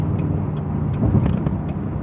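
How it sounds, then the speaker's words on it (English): A Ford Ranger pickup truck passes nearby, a loud, brief surge of engine and tire noise on the road with no one talking. "I'm getting passed by a Ford Ranger right now."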